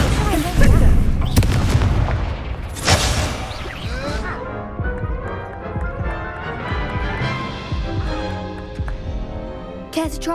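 A Confringo spell explodes in Hogwarts Legacy during a duel, a loud fiery boom early on, then crashing impacts and clatter amid game effects and speech.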